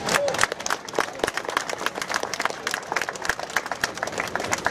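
A crowd at an outdoor vigil gathering claps and cheers, lively irregular applause close by that carries on steadily, with some voices mixed in.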